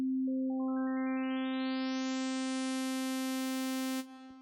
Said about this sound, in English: as you add more harmonics, you can tell and hear the sounds and the frequencies going upwards